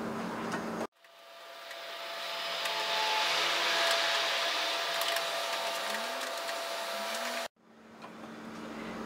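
A sewing machine stitches a one-step buttonhole in knit or stretch fabric, running as a steady, continuous mechanical whir for about six seconds under foot-pedal control. The run begins and ends abruptly, with no talk.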